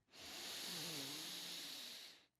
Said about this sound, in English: You want to receive a deep breath in through the nose.